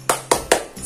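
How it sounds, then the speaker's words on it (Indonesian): Three sharp hand claps in a steady, even rhythm, close and crisp, performed by a teacher demonstrating the Indonesian 'tepuk semangat' spirit clap for young pupils, with no talking over them. "ibu akan contohin dulu nih kepada adik-adik semua tepuk semangat itu"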